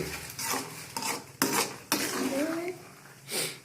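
Vermicelli (semiya) being stirred in a metal pan, with a spoon scraping and clinking against the pan in several separate strokes and a faint sizzle underneath, close and moderately loud.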